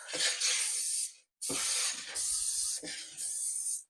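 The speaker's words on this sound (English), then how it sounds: "I'm going to spray my pan." Three hissing bursts of cooking spray onto a pan, close and loud, separated by short pauses.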